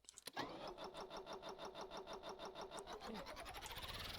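A small engine sputters, catches and runs with a fast, buzzing, weed-whacker-like putter that pulses steadily and climbs slightly toward the end, loud and close with no talk over it.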